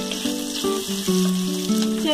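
Sliced big onion and three green chilies hitting hot oil in a pan for Kerala-style mutton fry, giving a steady loud sizzle with bursts of crackle and stirring, no voices.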